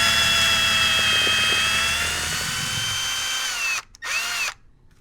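A cordless power drill backs a screw out of a squeaky wooden floor, a loud close high whine running steadily for several seconds, dipping in pitch, then briefly stopping and restarting before cutting off.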